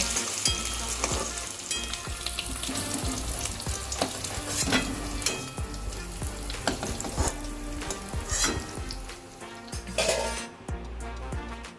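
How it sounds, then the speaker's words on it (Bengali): Potatoes fry to a deep golden red in hot oil, a loud, continuous crackling sizzle close up, broken by scraping stirs, utensil knocks and a cough. "আলুগুলো আমার খুব ভালো করে লাল লাল করে ভাজা হয়ে গেছে।"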